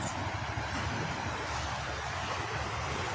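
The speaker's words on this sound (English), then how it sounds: "I want you to hear in the background the water" Steady broadband wash of ocean water at a beach in the Philippines, constant and fairly soft, with wind rumbling against the microphone and no talking.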